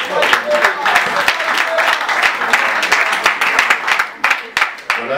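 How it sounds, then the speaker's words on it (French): Dense, steady clapping from a group at a press conference, sustained throughout with some louder individual claps near the end, and voices faintly mixed in. "faut applaudir, faut applaudir."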